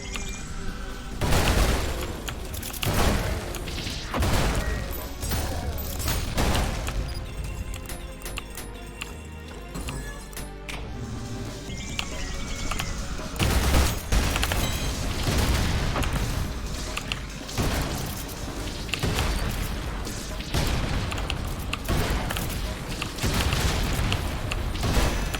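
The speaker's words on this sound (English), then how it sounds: "Look at all these explosions! Everything's explodey!" Rapid, dense bursts of booming blasts and impacts from ULTRAKILL gameplay, loud and continuous across the whole stretch, with thumping hits layered over a busy mix of game noise.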